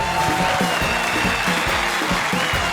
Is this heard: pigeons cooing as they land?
no